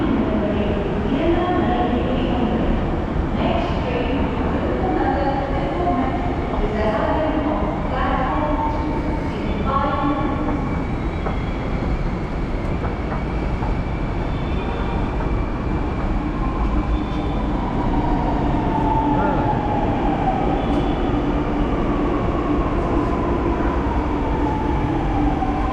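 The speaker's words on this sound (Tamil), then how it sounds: "மெட்ரோக்குள்ளே வந்தாச்சு." Inside a Chennai Metro train in motion, a steady loud rumble of wheels and carriage noise runs throughout, with faint rising whine tones and voices murmuring under it.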